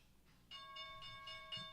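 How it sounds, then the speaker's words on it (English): A stock market opening bell rings during live options trading, a quiet repeated electronic ringing with sustained metallic tones starting after a short pause, several pulses in a row, low and steady throughout. "there's the bell"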